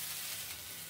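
Beans frying in a pot, a soft steady sizzle heard briefly and faintly with no voices.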